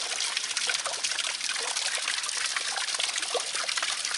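Spring water trickles steadily over rock into a natural bowl worn into the stone at a state park, a continuous close, bright splashing dribble with no pauses.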